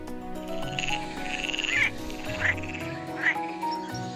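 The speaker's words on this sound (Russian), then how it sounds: "Лягушки прекрасно умеют плавать и прыгать. А как они поют, вы только послушайте." Frogs croak in a chorus, a steady layered murmur with a few louder rising calls standing out near the end.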